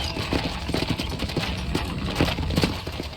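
Horse hooves clip-clop in a quick steady rhythm over a rumbling background in the video game Red Dead Redemption, moderately loud, with no talking.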